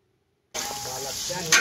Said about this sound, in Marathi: मटणाला फोडणी दिली आणि मटण आता शिजायला